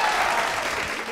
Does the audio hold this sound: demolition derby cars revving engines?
no